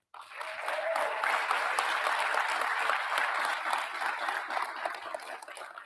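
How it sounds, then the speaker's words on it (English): An audience at a defense manufacturing training program graduation bursts into sustained applause that swells quickly and holds steady, heard from a distance with a faint crowd murmur. "Let's give them applause."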